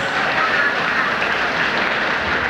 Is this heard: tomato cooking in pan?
no